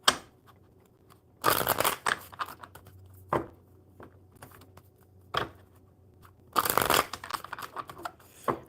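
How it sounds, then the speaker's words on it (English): Two bursts of a deck of cards being riffle-shuffled during a live tarot-style card reading, each a dense, crisp flutter of about a second, with quieter handling rustles between. "Big Cleo, let's shuffle these cards for you."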